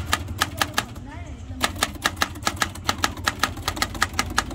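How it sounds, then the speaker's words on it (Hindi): An old antique all-metal typewriter in working condition clacks out a steady, rhythmic run of sharp keystrikes with a brief pause midway, close and clear against a low background hum. "ये बहुत ही पुराना टाइपराइटर है,"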